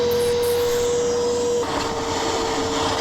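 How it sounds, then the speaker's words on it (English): Pondovac 4 pond vacuum sucking debris out of a heavily clogged pond filter, a loud steady motor whine with rushing suction that shifts in tone partway through. "Get rid of that, hoover out the last bit."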